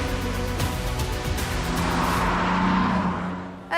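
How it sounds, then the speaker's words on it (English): A BMW M2 sports coupe with a manual transmission is being driven, its engine droning steady and loud from inside, with a rising tone near the end before a sudden cut. "it's so much fun still driving a sports coupe, but with a manual transmission"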